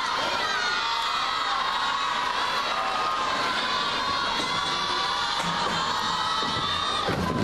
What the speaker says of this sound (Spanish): son los aplausos y el murmullo